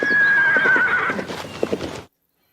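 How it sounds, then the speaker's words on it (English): A horse in a Star Trek radio drama lets out a loud, shrill whinny, followed by a few clopping hoof steps close by before the sound cuts off abruptly. "He pats the horse and hands the reins over to Tucker."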